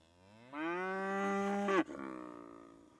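A cow lows once with a long, loud harmonic call in a village stable in winter at Shishtavec, followed by a softer trailing second call, with no talk.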